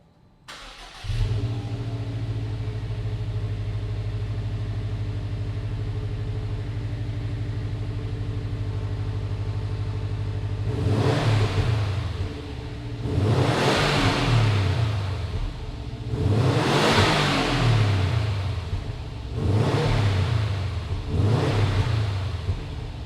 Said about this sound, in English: fire up this S209 and see what it sounds like